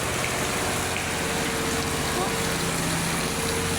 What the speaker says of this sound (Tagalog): Papasok na dito yung tubig. Yan na guys, maagos na papuntang parking.